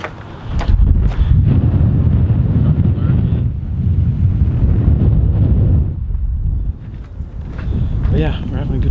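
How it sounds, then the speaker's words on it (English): Strong gusts batter the microphone outdoors near water, a loud, booming rumble that rises and falls in waves across the whole stretch, with people's voices breaking through in places. "Holy cow, is it windy"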